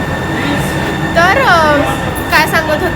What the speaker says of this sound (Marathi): परत ट्रेन आली आहे तर